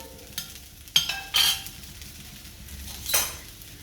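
Vegetable fried rice stirred in a pan: scraping spoon strokes with a few sharp metallic clinks against the pan over a light sizzle, close and moderately loud.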